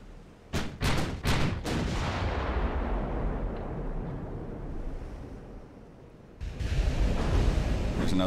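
Naval gunfire in the game Ultimate Admiral: Dreadnoughts, a battlecruiser facing a dreadnought: a rapid burst of four or five heavy booms near the start, a long rumbling decay beneath a wind and sea wash, then another loud blast near the end.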